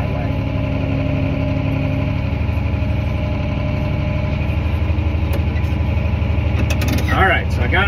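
Farm vehicle engine running steadily as it pulls up alongside a grain wagon, a loud close idling rumble with a voice briefly heard near the end.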